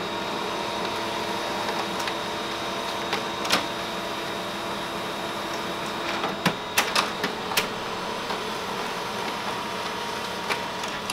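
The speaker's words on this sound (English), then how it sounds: "And now that process of the job is going to print." An HP Color LaserJet Pro M277dw laser printer prints a job, a steady mechanical whir and hum with scattered clicks and clacks of paper handling, close and continuous with no talking.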